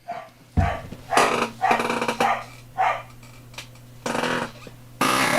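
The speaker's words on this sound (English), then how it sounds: "Can you hear a corgi woofing?" A corgi barks repeatedly nearby, sharp woofs in an uneven series with short pauses, over a low steady hum.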